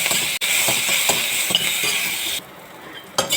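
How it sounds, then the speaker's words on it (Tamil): Mustard seeds sizzle and crackle steadily in hot oil with scattered pops and spits as they splutter in a pan for a South Indian tempering, with a brief clink of a utensil. "எண்ணெய் காஞ்சதும் கடுகு போட்டு பொரிய விடுங்க"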